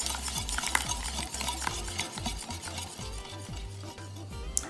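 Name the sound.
stirring melted butter into pancake batter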